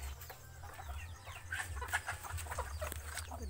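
Backyard chickens clucking around feeding time as they are given feed, several soft scattered clucks over a low steady hum of background noise.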